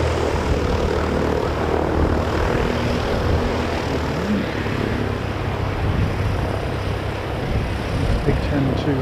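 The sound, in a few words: airplane landing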